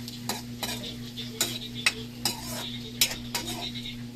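Adobong lukan (clams) stirred in a pan, a utensil scraping and clinking against the metal at irregular intervals over a soft, steady sizzle and a low background hum, with no talking.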